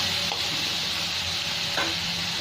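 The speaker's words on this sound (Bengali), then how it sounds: "আরও 1-2 মিনিট ভেজে নেবো ভালো করে" Tomato and fish pieces sizzle steadily in a hot pan of oil for a Bengali rui fish curry, a continuous bright hiss broken by a couple of faint scraping stirs.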